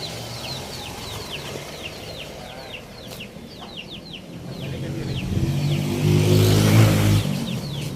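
Chickens cluck and chirp repeatedly at a feeding area for the larger birds, a busy stream of short calls at moderate distance, with a low engine-like rumble swelling toward the end.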